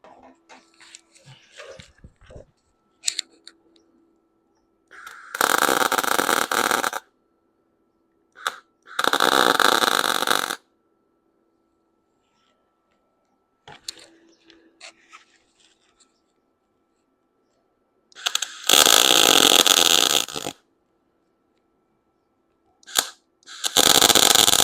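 Tack welds on a bracket for a Ford F150 pickup: four separate bursts of harsh, crackling buzz lasting one to two seconds each, with quiet pauses between them.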